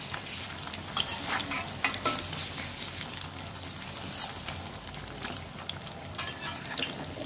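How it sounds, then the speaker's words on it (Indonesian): Mashed potato patties fry in hot oil with a steady, fairly quiet crackling sizzle that continues throughout, no one talking over it. "Ini sebentar banget gorengnya."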